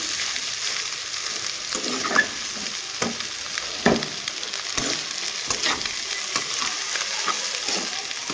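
Cauliflower and potato stir-frying in a pan: steady close sizzle broken by regular clacks and scrapes of a spatula turning the pieces.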